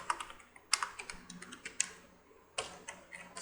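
Quick, light keystrokes on a computer keyboard come in an uneven burst of close clicks while a folder is named on a PC, with a louder cluster of taps partway through.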